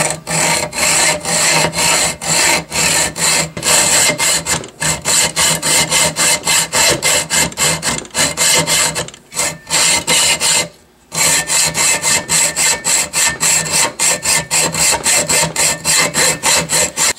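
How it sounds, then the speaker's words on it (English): Hacksaw cutting by hand into a metal rail part on a Saiga 12 shotgun, a steady rasping back-and-forth stroke rhythm repeated many times up close, with two brief pauses partway through. "we're going to just take a hacksaw to it a little bit until it loosens up"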